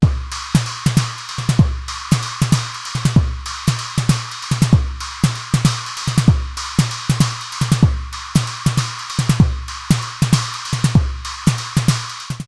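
A steady beat on a Nord Drum 3P electronic drum kit: thumping kick, sharp snare and bright cymbal hits cycling in a regular pattern, loud and up close.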